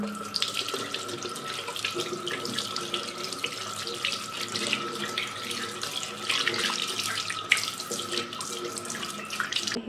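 Tap water runs steadily into a sink as a large henna leaf is rinsed under it, a constant close splashing stream with small shifts as the leaf moves through the flow.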